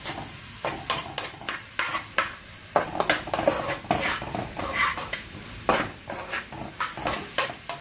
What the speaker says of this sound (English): So I'm gonna let this sofreír, right? It's under medium-high heat